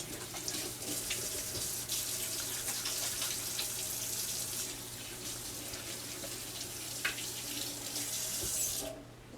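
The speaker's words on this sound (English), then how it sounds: "I'm going to wash my hands real quick." Kitchen faucet running steadily into a sink while hands are washed, a constant close hiss and splash with small shifts as the hands move under the stream, stopping abruptly at the end.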